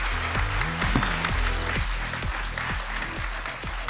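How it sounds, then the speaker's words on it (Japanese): An audience at a film festival talk event claps steadily and fairly loudly as guests are welcomed to the stage, with a low tonal sound running underneath the applause. "拍手お願いします。"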